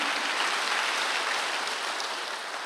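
Congregation clapping steadily during a Korean church Sunday service, a dense even wash of many hands with no pauses, filling the hall at moderate level throughout.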